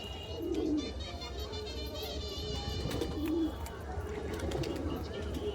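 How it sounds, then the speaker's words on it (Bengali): Domestic pigeons coo in short, low, throaty bursts at a pigeon loft, moderately close, over a steady background hum with voices faintly present. "পায়রা ছেড়ে দেখাচ্ছে দেখো"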